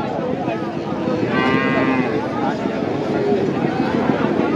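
A local-breed cow moos among the steady murmur of a crowded cattle market in Nilphamari, Bangladesh, with people talking throughout and other animal calls nearby.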